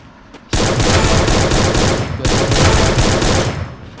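Rapid, loud gunfire from a mobile shooter video game, a dense burst of shots running nearly continuously after a short quiet start, with a brief break midway before the firing resumes.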